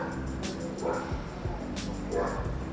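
Dogs bark a few times in the distance during an outdoor stretching session. The barks are faint, with quiet background noise and faint voices behind them.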